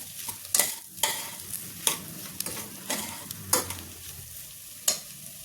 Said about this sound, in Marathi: हळद, तिखट, बटाटे त्याला चांगले परतून घ्या.